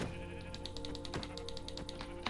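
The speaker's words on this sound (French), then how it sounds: "Il y a un mouton gris, est-ce que je le bute?" A grey sheep in Minecraft bleats in short, repeated game-sound bursts, quiet and fairly close, over a faint steady background hum, no voices.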